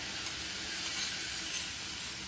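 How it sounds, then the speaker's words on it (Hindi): Garlic chutney sizzling and frying in a pan, a steady close hiss with no talk over it. "तो लहसुन की चटनी को फ्राई कर लीजिए"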